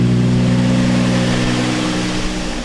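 A car engine runs after cleaning of its MAF sensor and throttle body. It holds a steady, loud idle hum with a low droning tone throughout and no talking.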